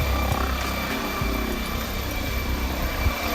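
Steady helicopter rotor and engine drone over a quiet beach area in Junk Bay, continuous and fairly close, holding an even level without talk.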